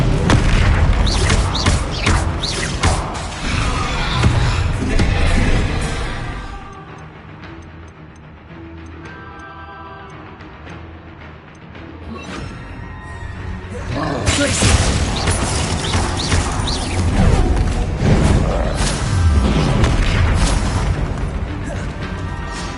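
Incendio fire spell blasts in a Harry Potter video game, loud booming bursts that fill the opening and closing stretches with a quieter lull in between, with spoken incantations.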